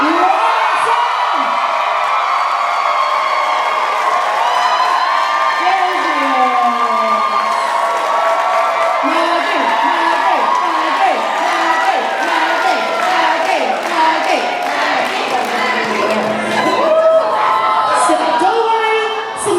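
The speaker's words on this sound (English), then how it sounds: "huge round of applause" Audience at a Baldur's Gate panel at RetroGameCon 2024 cheers, whoops and applauds loudly and continuously for nearly twenty seconds, with a speaker talking over the crowd noise.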